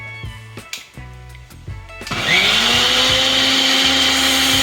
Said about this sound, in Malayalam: നല്ല വെണ്ണ പോലെ അരക്കണം